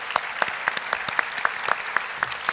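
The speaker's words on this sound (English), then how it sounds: "Let's give her another round of applause." Applause at a Congressional Black Caucus Foundation national town hall meeting comes as crisp, evenly spaced claps in a brisk steady rhythm, close and fairly loud.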